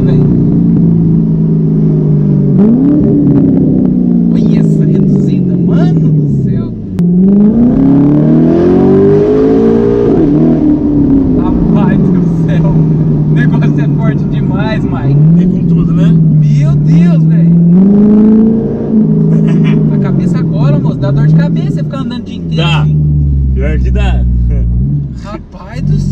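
A Corvette engine revs quickly while driving, rising and falling loudly as the car gains speed, with excited voices talking over the engine.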